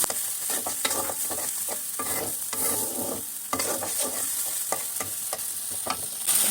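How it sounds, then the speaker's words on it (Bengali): Onion frying with ginger and garlic paste in oil for a Bengali-style chicken roast, a constant crackling sizzle broken by rhythmic scrapes and knocks of a spoon stirring against the pan, close and with no talk. "1 টেবিল চামচ আদা বাটা, 1 টেবিল চামচ রসুন বাটা দিয়ে পেঁয়াজের সঙ্গে ভালো করে কষিয়ে নিতে হবে।"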